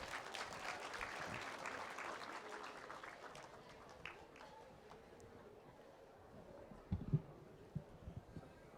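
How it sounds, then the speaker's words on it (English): A round of applause from a festival crowd at a magic show, fairly faint and distant, starting fuller and thinning out into scattered claps and small knocks toward the end. "Can we have a round of applause?"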